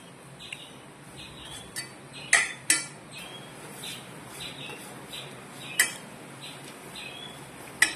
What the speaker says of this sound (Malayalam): ഇതുവരെ നമുക്കൊന്ന് ഇളക്കി കൊടുക്കാം